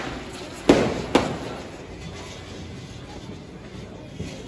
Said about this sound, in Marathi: हा सुतळी बॉम्ब.